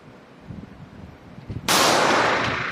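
A single sharp, loud report from a stainless Colt Competition .45 ACP pistol with a 5-inch barrel cracks out after soft handling noises and rings off in a decaying tail.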